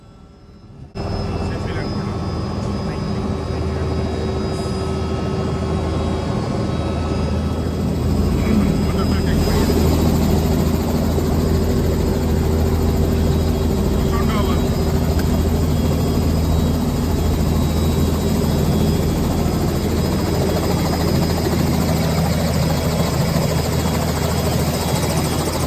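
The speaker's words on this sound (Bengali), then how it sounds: "আমরা এখন ল্যান্ড করলাম এবং এখানেই আমাদের আপাতত আজকের হেলিকপ্টার রাইডটি শেষ হচ্ছে।" Helicopter touching down on a helipad at the end of a short scenic ride over Bogura city, its rotor and engine drone loud and steady from start to finish, heard from inside the cabin.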